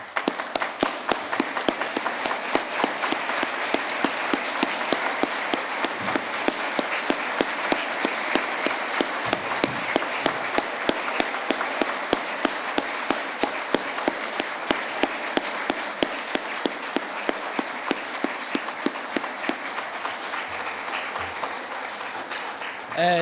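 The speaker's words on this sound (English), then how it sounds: "join me in a round of applause for Father Tom's memory" A large awards-night audience at a youth awards ceremony applauds steadily in tribute to the late Father Tom, a dense, sustained wash of clapping lasting over twenty seconds without letup.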